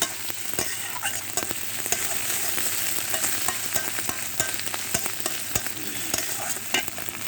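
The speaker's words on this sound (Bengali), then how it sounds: "আদা পেঁয়াজ রসুন বাটা আমি ভালোভাবে ভেজে নেব।" Ginger, onion and garlic paste frying in a pan for a fish curry with goat meat, a steady loud sizzle broken by frequent scraping stirs, close up with no talk.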